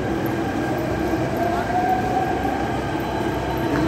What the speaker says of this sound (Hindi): इसी मेट्रो से भी उतरा हूँ